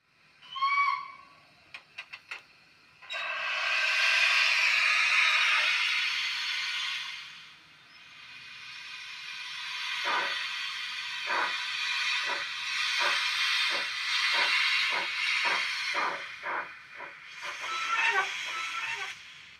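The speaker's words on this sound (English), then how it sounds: "It actually sounds like a steam engine and not someone stamping on snow." A sound-fitted Dapol Hawthorn Leslie 0-4-0 model steam locomotive gives a sharp whistle, then a long steady steam hiss, followed by a run of rhythmic chuffs that quicken, all fairly close with no talking.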